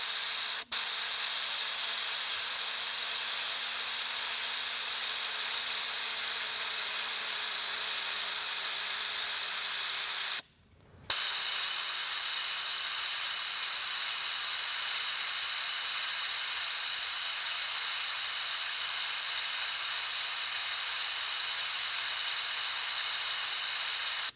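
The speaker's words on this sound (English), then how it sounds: "We're gonna plug the air in because we're using an air compressor." Compressed air from a shop air compressor hisses steadily into a cooling system pressure tester on an Audi, a loud continuous hiss with a short break partway through; no talking.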